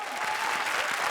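A studio audience on a television comedy show applauds loudly, a dense, steady burst of clapping from many hands.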